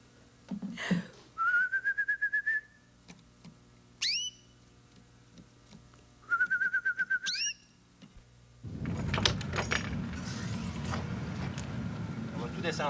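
A person whistles an imitation of birdsong in a 1978 French-language children's television programme, with rising, trilling phrases repeated twice and sharp upward chirps between them. A rumbling engine-like noise then takes over near the end.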